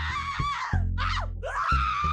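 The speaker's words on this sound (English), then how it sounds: "Stop screaming in my face!" Game character from Settle and Score: Love Encore letting out loud, drawn-out screams and wails in a few bursts, close and harsh, with no talk over them.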